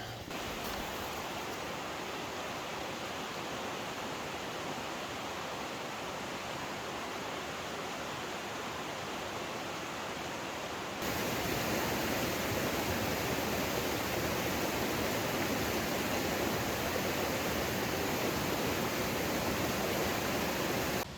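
A river in the Colorado wilderness near the Needle Creek Trail rushes with a constant broad hiss, steady and fairly close, growing a little louder partway through, with no voices.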